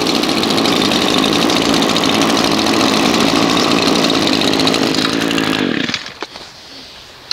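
Honda HRX 217 lawn mower engine idling loud and steady with a dense, even drone, then cutting off abruptly near the end and leaving quiet background with a couple of small knocks.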